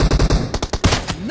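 Rapid bursts of gunfire from PUBG Mobile, several sharp loud shots in quick succession with a short rattling volley near the end, close and dominant.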